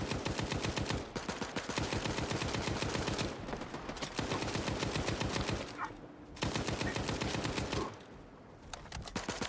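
Sustained automatic gunfire in STALKER 2 rattles on almost without pause, loud and close, broken by a few short gaps between long bursts.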